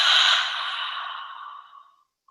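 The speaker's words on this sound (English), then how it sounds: "Exhale out through the mouth." A single long exhale out through the mouth during yoga breathing, a soft breathy rush that starts strong and fades gradually over about two seconds, close and alone.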